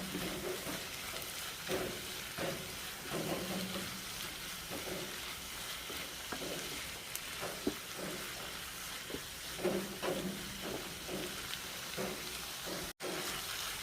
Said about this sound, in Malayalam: തക്കാളി കൂടി ഇട്ട് കൊടുത്തിട്ട് കുറച്ചുകൂടി നന്നായിട്ട് വഴറ്റിയെടുക്കുക